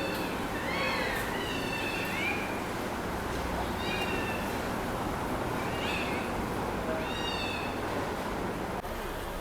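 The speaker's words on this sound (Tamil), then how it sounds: "இப்போ சாப்பிட்ற வந்த இடத்துல பக்கத்தில் பூனைக்குட்டியாக இருக்குங்க." A kitten meows beside a roadside restaurant on a bus journey, giving about four thin, rising cries spaced a couple of seconds apart over steady traffic and crowd noise.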